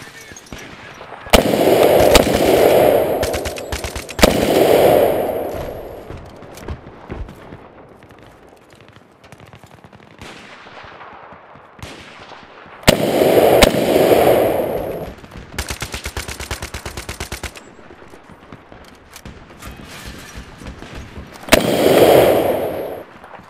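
Loud, close bursts of G3 battle rifle fire in a game, several rapid strings of shots with sharp cracks, separated by pauses with faint background noise.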